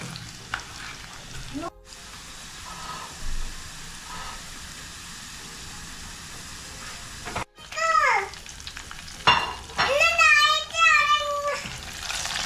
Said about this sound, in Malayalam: ആ വെളുത്തുള്ളിയുടെ പച്ചമണമൊക്കെ ഒന്ന് പോകുന്ന വരെ ഒന്ന് വഴറ്റിയെടുക്കുക